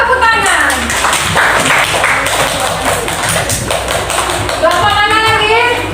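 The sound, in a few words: group clapping hands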